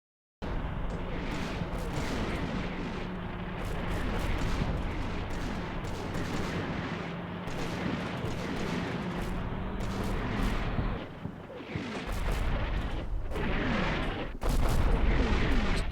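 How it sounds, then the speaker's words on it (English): A sustained mortar barrage in the tactical war game Combat Mission Shock Force 2, with repeated loud impacts and crumping blasts over a continuous rumble, sharper explosions near the end, and no talking. "Just keep everybody back and let the mortars do their thing."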